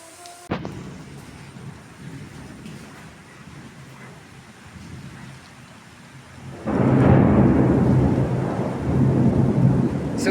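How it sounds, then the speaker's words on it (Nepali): Rumbling thunder rolls outside over wind and falling rain, a low continuous roar that swells sharply partway through and stays loud and heavy to the end. "चट्याङ हानेको होइन बाहिरतिर चाहिँ मजाले हावा चलिरहेछ अनि पानी नि मजाले परिरहेछ"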